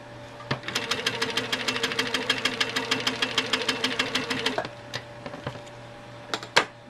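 A sewing machine stitching in the ditch on a quilt block runs in a rapid, even mechanical clatter for about four seconds, then stops, followed by a couple of sharp clicks.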